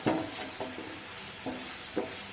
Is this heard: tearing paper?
no